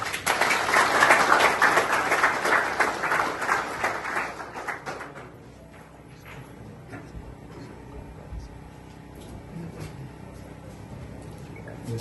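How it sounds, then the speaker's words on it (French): Warm audience applause bursts out at an official installation ceremony, loud for the first few seconds and then fading away, leaving quiet room noise with faint scattered sounds. "Qu'il vous plaise de l'applaudir chaudement"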